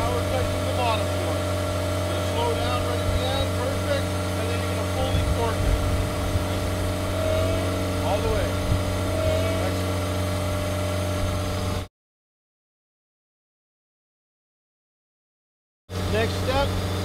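A horizontal directional drill rig rotates to tighten a drill rod joint. Its engine holds a steady mid-pitched idle drone with faint mechanical clanks, the sound cuts out abruptly for a few seconds, then resumes.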